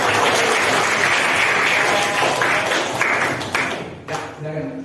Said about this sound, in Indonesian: Tepuk tangan dong Ebi.